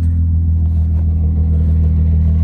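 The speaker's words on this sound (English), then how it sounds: "Let me hear the exhaust." Steady, close engine rumble from a Volkswagen Mk3 VR6 12-valve fitted with a Magnaflow exhaust, a loud continuous drone held evenly throughout with no voices.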